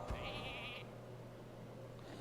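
The Polymorph sheep in the card game Hearthstone gives one short, quiet bleat over faint background tones.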